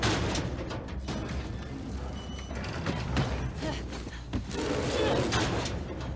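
Gunfire from The Last of Us Part 2 ploughs through a dense, noisy game mix of mechanical clatter and sharp bursts, sustained at steady loudness throughout with possible talk mixed in.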